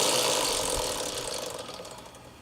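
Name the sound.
motorcycle rear wheel spinning freely on the drive chain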